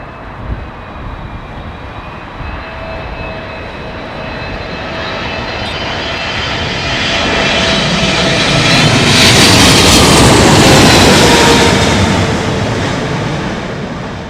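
A Boeing 777-300 lands in strong winds at London Heathrow, its loud jet engine roar building to a broad, rushing peak midway before easing off slightly, with wind buffeting underneath.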